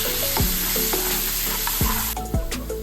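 Cumin seeds and dried chillies fry in a pan for spicy Sri Lankan potato bonda, a continuous close sizzle with a few sharp scraping strokes of stirring and no talking.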